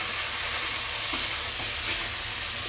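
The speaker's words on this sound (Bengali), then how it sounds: "ভাজবো আমি টমেটোটাকে" Chopped tomato frying in a pan with spices for a potato paneer curry produces a continuous near sizzle with a few faint stirring clicks, and no voices.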